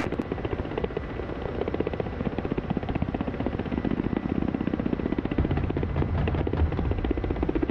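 Ka-50 attack helicopter in the DCS flight simulator combat campaign, a steady loud rotor chop with dense rhythmic thudding and turbine roar filling the whole stretch, close and continuous with no talk.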